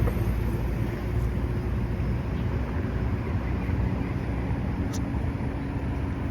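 A steady roar of road traffic passes continuously, broad and rumbling, with wind noise over the microphone and no distinct voices.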